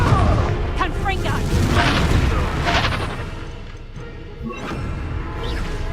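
Confringo blasting spells cast in Hogwarts Legacy on PS5, booming explosive bursts and crackling magic effects layered under shouted spell names and game dialogue, loud and dense throughout.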